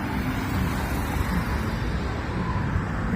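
Old cars rolling along a street during the Back to the Bricks cruise in Flint, Michigan, a steady dense rumble of engines and road noise with no clear single pass-by.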